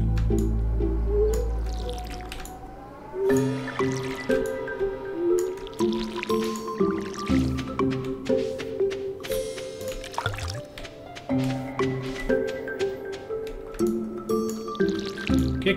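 Watering crops with a watering can in the video game Stardew Valley: repeated wet splashing and dripping bursts in a steady rhythm, set over bright game music with chiming melodic tones throughout.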